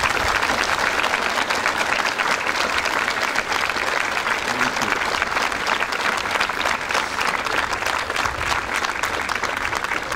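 A large audience at a Brookfield Academy school event applauds honored guests, a dense, steady wash of many hands clapping that holds at full strength throughout, with no speech on top.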